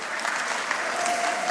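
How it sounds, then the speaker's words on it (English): A seated audience at a mentorship session applauds in a brief, steady wash of many hands clapping, heard from some distance with no clear individual claps. "Clap for yourself."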